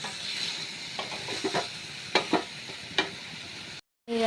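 Cumin and coriander frying in a pan for a chicken curry. A light sizzle continues under scattered stirring scrapes, then cuts off abruptly near the end.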